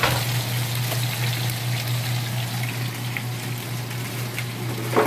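Onions added to a hot pot for pot roast, giving a steady, close hiss of sizzling with faint crackles, a constant low hum running beneath it.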